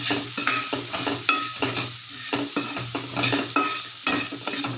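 Salted onions sautéing in a pan, a close hiss of frying broken by rhythmic scraping strokes of a spoon stirring through them, with no voices.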